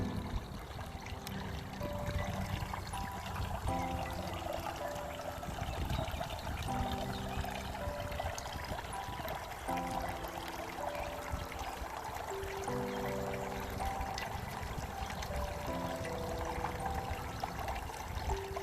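Water trickles steadily in a farm pond, a continuous close splashing flow with a faint tonal hum running beneath it throughout.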